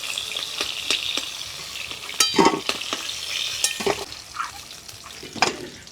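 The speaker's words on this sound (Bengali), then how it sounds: "ঠিক এইভাবে লাল করে ভেজে নিতে হবে" Crabs fry in hot oil in a village kitchen, a soft steady sizzle broken by scraping stirs and metallic clinks of the spatula against the pan, close and alone.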